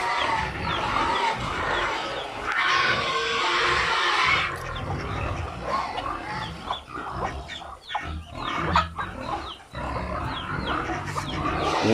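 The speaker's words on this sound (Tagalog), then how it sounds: "Yun yung pabo" Turkeys and other farm fowl, including ducks, call in an outdoor livestock setting. Their irregular squawks, gobbles and clucks overlap at moderate volume over a busy background, with no talking.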